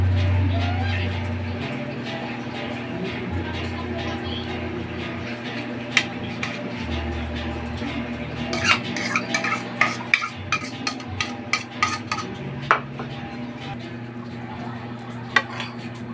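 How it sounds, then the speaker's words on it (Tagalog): Grated young coconut being stirred into sweet taro kaluko in a pot, a spoon scraping and clinking against the metal in a quick run of taps, with background room noise and faint bird coos. "Ihalo na natin yung buko guys dito."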